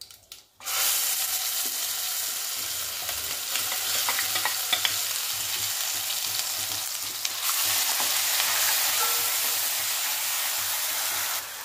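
Ground masala paste with asafoetida and curry leaves frying in oil for besan roll curry, a loud continuous sizzle and hiss that starts abruptly and holds steady throughout, with faint stirring scrapes underneath.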